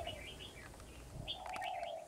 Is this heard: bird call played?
yes